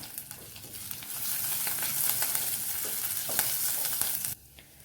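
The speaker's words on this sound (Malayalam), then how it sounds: "കുറച്ച് കറിവേപ്പിലയും കൂടി ഇട്ട് കൊടുത്ത് നമുക്കിതൊന്ന് വഴറ്റിയെടുക്കാം." Shallots, sliced dried chili and curry leaves sauté in a pan for a Kerala bitter gourd pachadi, giving a loud, steady oil sizzle broken by stirring scrapes that cuts off abruptly near the end.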